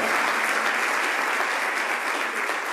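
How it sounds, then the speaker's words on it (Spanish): A concert audience in Zaragoza gives loud, dense, sustained applause, many hands clapping steadily for the whole stretch with no break. "Fuerte el aplauso para esta guapísima, valiente y buena persona"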